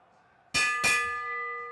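Two sharp bell strikes ring out close together, the second tone lingering and slowly fading, marking the final lap of a track cycling Madison race.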